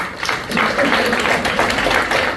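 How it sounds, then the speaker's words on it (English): Audience applause following a mind-body presentation, a steady, fairly loud wash of clapping from a crowd filling the whole stretch without a break. "Can we have another round of applause?"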